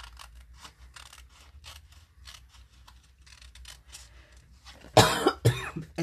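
Scissors snipping through cardstock while crafting a Stampin' Up! winter card, heard as a burst of sharp, close cuts near the end after a quiet stretch of soft handling sounds.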